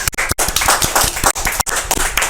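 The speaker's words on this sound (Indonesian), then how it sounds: "Tepuk tangan dong buat ST." A small studio audience on an Indonesian podcast claps for a guest, a quick, close burst of hand claps with a couple of brief pauses and little talk.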